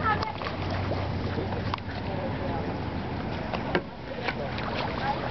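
Kayak paddle strokes dip and swish through water on a lake outing with a quadriplegic paddler maneuvering in place, steady low rumble beneath, a couple of soft splashes, with people talking over it.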